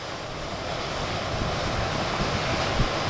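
Ocean surf at high tide on the Goat Rock coast, a loud continuous roar of breaking waves mixed with wind rumble, close and unbroken.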